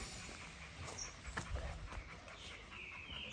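A large female pit bull pants steadily and close by, with breathy rhythmic huffs over a noisy background.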